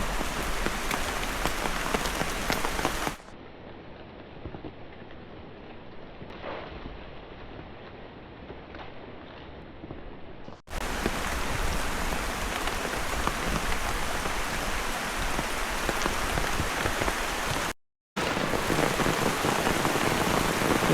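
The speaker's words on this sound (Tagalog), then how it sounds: "Ito na mga idol, lumalakas ng ulan." Heavy rain pours down in a dense, loud roar in a forest, dipping briefly to a softer patter midway before surging back, with a short gap near the end.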